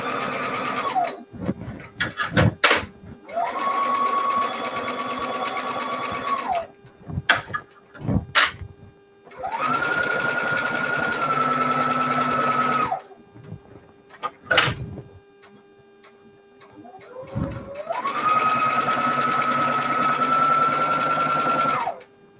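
A sewing machine stitches quilt pieces in several long bursts, separated by pauses with clicks and handling noises, running close and loud with no talk.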